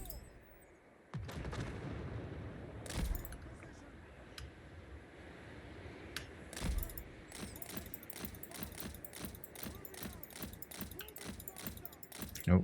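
Massed gunners fire in the Total War: Warhammer 3 battle, a rapid run of sharp, distant musket-like cracks over a rumbling battlefield bed, thickening into a steady crackle in the second half while someone talks throughout.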